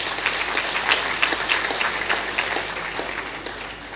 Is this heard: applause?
yes